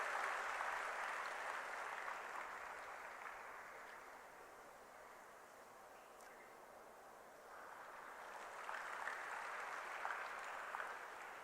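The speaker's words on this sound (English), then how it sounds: "Let us honor the presence of our esteemed guests with a big round of applause." Audience applause at a youth seminar in Kanha Shanti Vanam, a soft, distant wash of clapping that dips in the middle and swells again toward the end.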